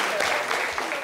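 A studio audience gives a brief burst of dense, loud clapping for a contestant on a French game show, with a voice talking over it.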